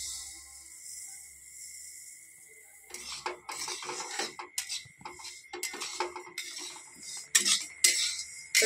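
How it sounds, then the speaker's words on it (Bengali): Sesame seeds are stirred and dry-roasted in a metal kadai, giving close, irregular scraping and clinking of a spatula against the pan that starts after a quiet opening and continues steadily, with no talking. "এবারে আমি এই তিলগুলো কিন্তু একটু কড়াইতে দিয়ে একটু নেড়ে চেড়ে ভেজে নেবো।"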